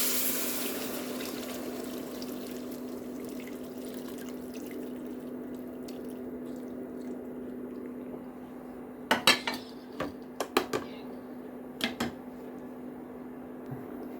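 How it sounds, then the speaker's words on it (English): Fish broth poured into rice in a pot, a steady liquid pour and hum for several seconds, followed by a few sharp clinks of a utensil against the pot near the end. "And let's add our fish broth."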